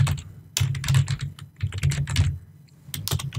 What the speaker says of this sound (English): So let's get to typing in the rest of our code.